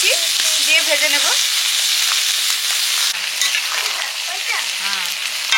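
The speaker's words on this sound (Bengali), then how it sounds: "ডালের বড়া ভাজবো, শুধুমাত্র নুন আর হলুদ দিয়েছি, দিয়ে ভেজে নেব" Lentil fritters seasoned only with salt and turmeric frying in hot oil give a steady, close sizzle throughout, with faint voice fragments over it early on.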